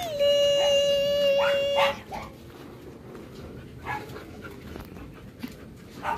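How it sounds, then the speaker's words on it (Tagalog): Large dog whimpering in a long high whine for about two seconds, then quiet panting and faint snuffles close by, with a little indistinct background noise. "Pero malaki man siyang aso."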